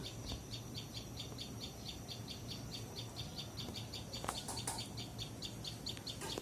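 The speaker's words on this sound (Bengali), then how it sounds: "ওর মা বাবা ওই যে দেখেন ডাকাডাকি করছে" Adult tailorbirds call for a small chick that fell from the nest, giving faint, steady, evenly spaced high chirps over background hiss, with a few sharper clicks near the end.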